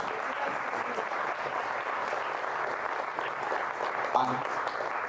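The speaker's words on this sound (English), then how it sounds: "I'd like to give everyone in the room a big round of applause" Steady applause from a room full of people, sustained clapping at moderate distance with a brief louder burst near the end.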